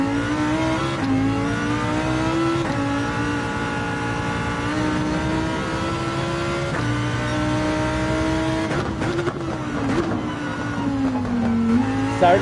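High-revving race car engine in Gran Turismo 7 during an online race at Interlagos, a loud, steady whine rising and dipping with gear changes and throttle, touched by faint tire squeal near the end.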